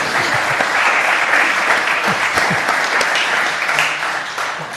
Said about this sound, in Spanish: no voy a pedir un aplauso para José Luis